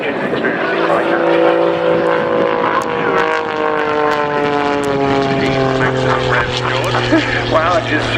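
Pitts Special aerobatic biplane performing a stall turn at an airshow display, its propeller engine droning loudly and continuously with shifting pitch sweeps as power changes, while a commentator talks over it.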